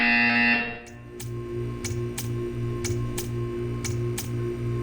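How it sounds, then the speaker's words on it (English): A repeating game buzzer from Portal 2, pulsing in a steady rhythm of short, evenly spaced blasts over a low ambient hum after a brief louder opening tone. "When you hear the buzzer, stare at the art."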